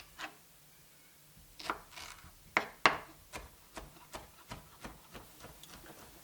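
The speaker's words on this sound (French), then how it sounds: "Donc ici, je coupe en petits cubes" Knife cutting pineapple into small cubes on a board, a series of crisp distinct chops at an irregular but quickening pace, close and clear over a quiet background.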